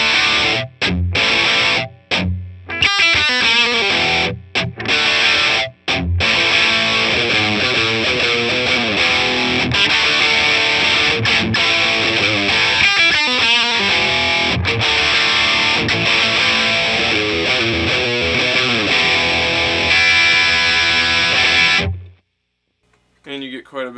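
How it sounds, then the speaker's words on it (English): Distorted electric guitar through a Marshall Valvestate VS100 combo amp on overdrive channel 1 with gain fully up, loud sustained chords and riffs with brief pauses, ending abruptly. "So here's the overdrive channel 1 with the gain all the way up."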